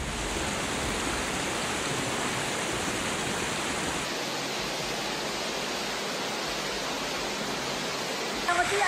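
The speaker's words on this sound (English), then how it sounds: "The scenes on the streets transformed into a river as strong currents sweeping away the possessions of people." Flood water rushes through city streets in a continuous, dense roar like a torrent, steady and enveloping throughout with no break.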